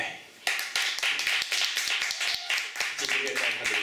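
An audience at an opening event at Tiehua Village in Taiwan bursts into applause. Dense, continuous clapping starts suddenly, stays close and loud, and a few voices can be heard underneath near the end.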